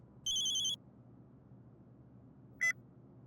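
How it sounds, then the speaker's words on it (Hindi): A phone chirps electronically twice, a short tone burst followed by a briefer beep, in an otherwise quiet room. "हमारी धर्मपत्नी राधा रानी का फोन है, उठा लें।"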